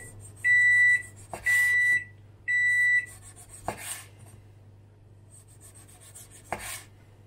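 A microwave oven gives three loud, even beeps in a row, followed by a couple of sharp clicks and a quiet hum.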